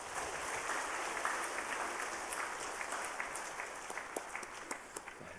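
A church congregation at a Sunday service applauds warmly, a dense, steady wash of many hands that sounds somewhat distant and soft, with a few louder claps standing out near the end.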